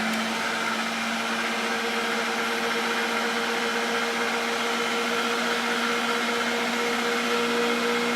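A Ninja Intelli-Sense kitchen system blender runs steadily on a puree setting, a loud continuous motor whine with a constant high hum, close and uninterrupted with no talking.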